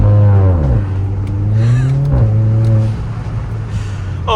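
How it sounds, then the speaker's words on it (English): A Kia Forte GT in sport mode revs through its exhaust with no artificial engine sound, loud and close, with a deep droning note that rises, dips and climbs again as the engine is blipped. "That is straight up coming from the beautiful, beautiful exhaust"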